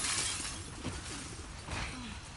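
Glass shatters in the video game The Last of Us Part II: a bright, noisy crash at the start, then scattered tinkling fragments and crunches, fairly close, with no talk.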